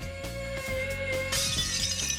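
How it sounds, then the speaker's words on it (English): Crystal glass shattering after being driven by a loud resonant tone, a sustained steady tone breaking into a bright crash of glass that continues to the end. "on breaking glass, the key ingredient was finding the resonant frequency of the crystal"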